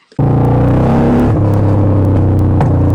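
A motorcycle engine bursts to life and revs hard, pitch climbing then dropping and rising again, loud and close with no talking.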